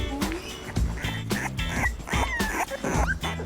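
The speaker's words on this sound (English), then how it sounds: "Our couple, Nathan and Carolina, know what sort of puppy they want, a blue staffy, but they can't decide between the two females of the litter" Blue Staffordshire bull terrier puppies yip, whimper and give small barks in a busy overlapping stream, close and fairly loud, with the high cries repeating every second or so throughout.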